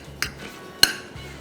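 A spoon clinks twice against a bowl while paneer is mixed into minced beef for quesadilla and empanada filling. The two sharp taps are close, separated by quiet.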